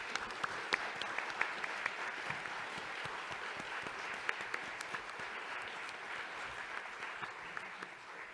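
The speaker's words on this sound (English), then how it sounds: "give a round of applause to Wayne, Leslie, Susie, and everyone who's worked so hard on making this conference a success" Applause from a seated audience closing a session at the ALPSP annual publishing conference, a steady, even patter of many hands heard from a slight distance, continuing for several seconds without talk.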